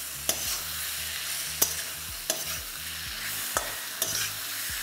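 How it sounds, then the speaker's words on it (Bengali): Thinly sliced tomatoes, two medium ones, stirred into gram flour cooking in a pan for a vegetarian dinner: a steady soft sizzle with five distinct sharp scrapes of the spoon at irregular intervals, moderately faint and close. "আমি এখানে 2টো মাঝারি সাইজের টমেটোকে এরকম পাতলা পাতলা করে কেটে দিয়ে দিচ্ছি"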